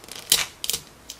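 Perforated plastic wrapper being torn off a Baby Alive Mini Brands toy capsule, heard as two or three short, crisp ripping bursts with small crackles between, close and fairly quiet with no talking.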